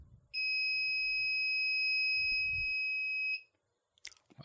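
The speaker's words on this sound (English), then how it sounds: "I wonder if this timer's going to scream" A countdown timer alarm goes off with one sustained, piercing electronic tone lasting about three seconds, loud and steady, then cuts off abruptly; faint rustling sits under it and noise follows.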